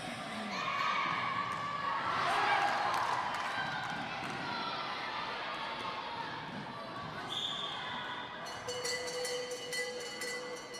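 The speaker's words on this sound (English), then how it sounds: "The crowd doing their best to keep both of these teams lifted." Spectators cheer and shout at an under-17 netball match between Gibraltar and Switzerland in Gibraltar, a sustained moderate crowd roar with whistles and squeaks near the end.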